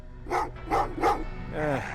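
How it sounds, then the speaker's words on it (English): Dogs in the video game Terminator Resistance give three quick, sharp barks at an even pace, then a whining yelp, all fairly close and loud. "what's with the dogs?"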